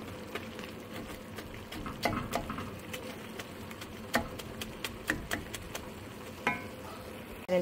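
Ground beef and sausage sizzle and crackle in a pan while a meat chopper breaks the mince apart, giving sharp scraping taps at irregular intervals over a steady frying hiss, close and moderately loud with no talking.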